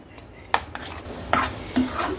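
A spoon scrapes and stirs moong dal halwa roasting in ghee in a pan, a few distinct metallic clinks and scrapes spaced irregularly over a low steady background, close and moderately loud.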